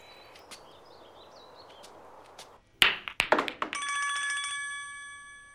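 A telephone rings nearby, first with a few sharp knocks and taps and then a steady, clear electronic bell that continues to the end after a quiet stretch with faint chirping.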